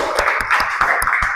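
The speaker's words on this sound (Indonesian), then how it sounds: "kita tepuk tangan dulu untuk semangat hari ini" A group claps hands together in a classroom, a quick and fairly even run of sharp, close claps lasting just over a second.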